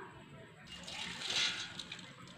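Water drains off soaked red rice and idli rice before grinding, a soft sloshing pour that swells midway and then tapers, fairly faint and close.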